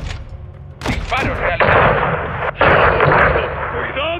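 Gunfire and explosions from the Call of Duty Modern Warfare 2 campaign boom loudly, with heavy blasts and sustained rumbling impacts, while voices speak over the battle.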